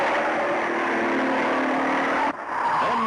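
A race car speeding around the track at Bathurst in 1968, a loud sustained engine drone close by that cuts off abruptly and then picks up again, with no speech.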